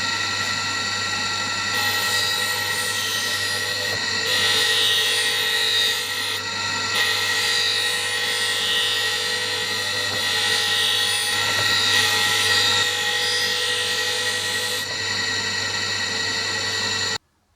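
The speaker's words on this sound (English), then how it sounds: "Alright, we've completed the first grind." A grinder working a cast iron table gib runs as a steady, loud, high-pitched whine with a constant hum beneath, holding for over fifteen seconds before cutting off abruptly at the end.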